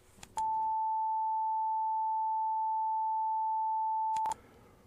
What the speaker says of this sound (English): listen to what happens when we feed the 430 and the 450 Hertz tones